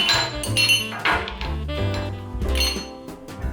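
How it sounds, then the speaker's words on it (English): Ice cubes clink and tumble into a rocks glass while a Garibaldi cocktail of Campari and orange juice is made, a run of close, bright glassy chinks over a few seconds. "Fill a rocks glass with ice."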